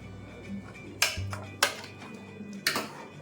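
Misal masala is stirred in a metal pan, a utensil giving three distinct clinks and scrapes against the pan at uneven intervals, quiet and close.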